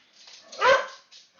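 A single close dog bark, sharp and loud, with a couple of faint yips around it.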